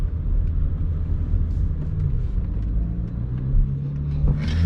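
A stage 2+ BMW 335i tuned on E85 at 22 psi accelerates hard in first gear, heard from inside as a loud, deep engine drone that holds steady and swells slightly toward the end.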